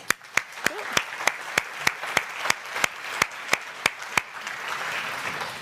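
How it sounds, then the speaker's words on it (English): Sparse, evenly spaced audience claps at a conference talk ring out one after another, about a dozen sharp slaps, thinning into a soft murmur at the end. "A round of applause for Nick."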